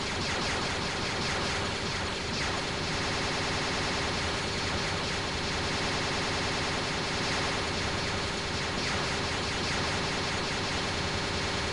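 Dense, continuous gunfire from Star Wars Jedi Knight II: Jedi Outcast, a loud unbroken wash of blaster shots and noise that carries on steadily throughout with no talking.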